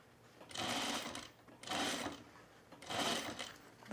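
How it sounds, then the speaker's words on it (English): Domestic sewing machine sewing a collar onto a pullover camp shirt, three close, fairly quiet whirring runs of rapid stitching separated by short pauses, with no talk. "I'm gonna pull the collar out of the way and keep sewing."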